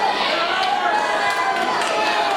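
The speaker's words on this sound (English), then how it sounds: "Sounds like the crowd wants to see it too." Wrestling arena crowd at a live tag-team match cheering loudly and steadily throughout, a dense roar of many voices with a few brief shouts rising above it.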